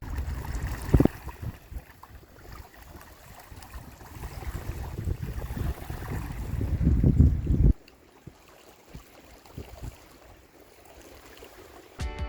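A sailboat drifts in light wind into Bahia Tenacatita, with water washing and sloshing against the hull and a steady breezy rush that swells, then cuts abruptly to a quieter lapping with occasional faint knocks.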